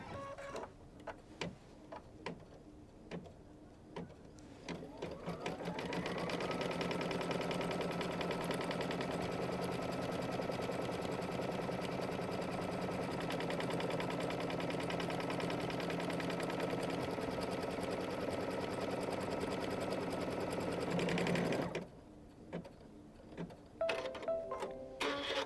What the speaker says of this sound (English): I'm going to go ahead and stitch the batting placement line